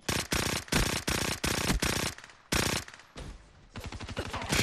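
Rapid bursts of automatic gunfire in the Black Ops 3 video game, sharp and rhythmic, several fast strings of shots with brief gaps, fairly close and loud, with no voices over them.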